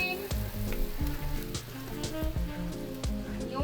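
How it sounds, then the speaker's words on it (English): Vegetables sautéing in a pan for spaghetti with minced beef, a steady crackling sizzle with a few light clinks of a utensil stirring, with music playing underneath. "Saute vegetables for around 2 to 3 minutes"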